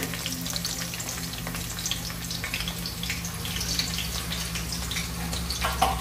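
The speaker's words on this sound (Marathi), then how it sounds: "आता हा मी उभा चिरलेला कांदा याच्यात टाकून घेत आहे" Sliced onions fry in a pan for a Masoor dum biryani, giving a constant, even sizzle with faint stirring, and a low hum beneath it. No one talks.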